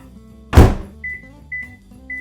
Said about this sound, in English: To the microwave, you know what time it is.